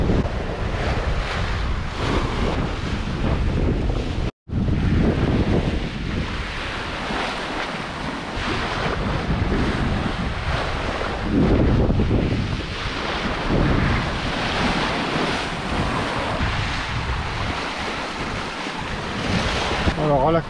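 Sea waves and steady wind noise recorded on deck of a sailboat nearing Dakar in about 13 knots of breeze on calming water, a continuous loud wash of surf and wind buffeting close to the microphone.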